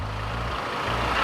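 A taco truck pulls away close by, its low engine rumble and hum steady for a brief moment with no talking.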